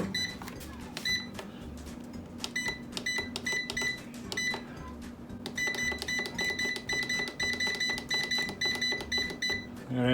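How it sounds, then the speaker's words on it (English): An air fryer being set for a seitan roast gives repeated short electronic beeps and clicks from its control panel, close and clear over a steady low hum, with bursts of beeping through most of the stretch. "So there's the air fryer."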